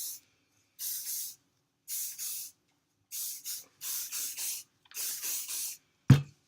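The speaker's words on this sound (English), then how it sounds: "Actually, to start, let me put some spray in it." Several short hissing bursts of hair prep spray from a spray bottle, close up and in quick irregular pairs separated by silence, ending with a soft thump.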